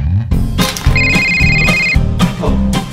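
A phone rings with an incoming call at home, a bright electronic ringtone sounding for about a second among nearby clatter and background noise.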